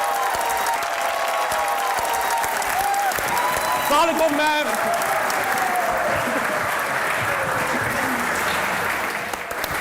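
Studio audience applauding guests on a talk show, sustained clapping and crowd noise throughout, with a brief greeting spoken over it midway.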